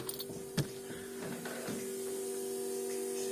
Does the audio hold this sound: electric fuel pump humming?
yes